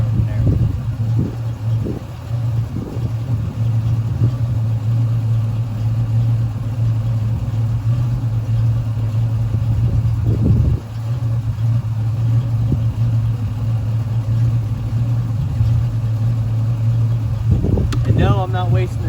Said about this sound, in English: the very first thing I'm going to do is a burnout while it's still running